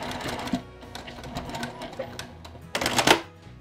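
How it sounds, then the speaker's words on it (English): Sewing machine running a back stitch through fabric, a close mechanical whirring in short bursts with a louder rattling burst near the end and no talk. "I will just do a back stitch again."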